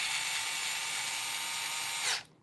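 A power driver whirs steadily as it drives thread-locked screws into the axle assembly of a Treal LMT RC car, a continuous high buzzing that stops abruptly near the end.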